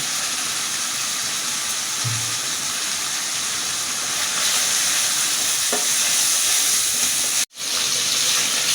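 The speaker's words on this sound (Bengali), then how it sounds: "আমার মশলাটা কিন্তু সুন্দর করে কষানো হয়ে গেছে" Spice masala with chili powder and salt frying for a hilsa and taro root curry, a steady close sizzle that swells slightly midway, with an occasional stir scrape and a brief cut near the end.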